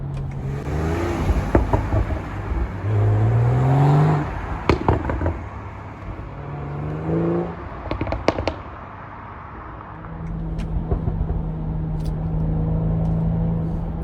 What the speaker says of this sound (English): We got a lot of crackles and pops coming out of the exhaust